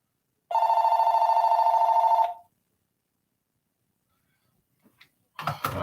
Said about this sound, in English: I just let the phone ring.